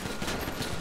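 Rapid gunfire as a player shoots from a speeding superbike during a GTA 5 police chase, dense repeated bursts filling the short moment over engine and street noise.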